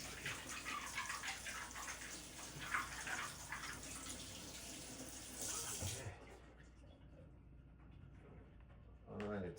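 Dug-up flower bulbs are rinsed under a running tap, with a steady rush of water splashing for about six seconds before it cuts off, leaving quiet handling sounds and a brief final splash.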